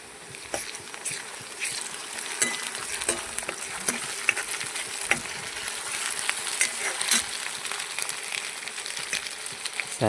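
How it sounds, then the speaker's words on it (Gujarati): Ginger garlic paste sizzles in hot oil with browned onions, a steady crackling fry with scattered stirring clicks throughout, no voices. "તો એમાં આપણે 1 ચમચી આદુ લસણની પેસ્ટ નાખી દઈશું."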